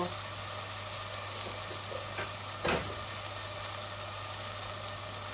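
Raw chicken goes into a hot pan of half-cooked fried onions, raising a steady, close sizzle with a brief louder burst of hiss partway through, continuing evenly throughout.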